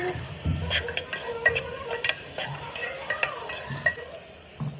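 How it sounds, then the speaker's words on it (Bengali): Chopped tomato and turmeric stirred in a hot frying pan for a soybean and chana dal dish, with a steady sizzle, repeated utensil scrapes and clinks against the pan, close and moderately loud. "এবার দেবো পরিমাণ মতো হলুদ, ভালো করে লাগানো যাবে। তারপর দিয়ে দেবো টমেটো কুচি"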